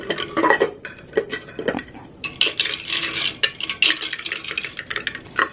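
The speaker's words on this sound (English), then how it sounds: "I'm going to go ahead and mix that up and see how that tastes." A spoon stirs a drink mixture in a cup, scraping and clinking against the sides in irregular bursts with short pauses between them.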